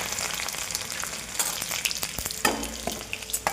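Mustard seeds, cumin and garlic sizzle and pop in hot oil in a home kitchen while an usal is made, a steady close crackle with sharp spits and a few stirring clatters.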